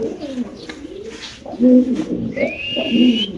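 A Spanish pigeon coos up close in a loud, throaty rolling call repeated several times, with a thin whistle-like tone and faint background voices at a market-like sale.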